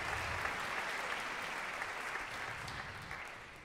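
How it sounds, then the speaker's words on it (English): Steady, moderately distant audience applause at a jazz concert, a continuous even wash of clapping with no voices. "let's give him a round of applause"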